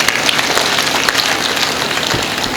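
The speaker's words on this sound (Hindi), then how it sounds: "तो एक बार जोरदार तालियां बजाइए" Dense, steady applause from a live audience at a Hindi comedy and poetry stage show, loud and continuous for a couple of seconds with no gaps.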